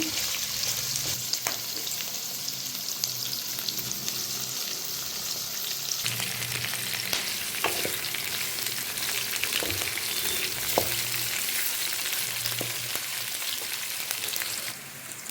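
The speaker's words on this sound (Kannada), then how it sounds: "ಫೋರ್ ಮಿನಿಟ್ಸ್ ಅಷ್ಟು ಈ ಥರ ಫ್ರೈ ಮಾಡ್ಕೊತಾ ಇರಿ" Onions fry in oil for a goat head and leg sambar, a steady close sizzle with occasional stirring scrapes and crackles throughout, and no talk.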